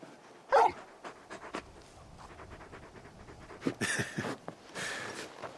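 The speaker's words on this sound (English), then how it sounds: "You're just a big puppy, aren't you? A very big puppy." The large dog Torgal from the video game Final Fantasy XVI pants softly in short breathy bursts, with a faint whimper and a few louder huffs near the end.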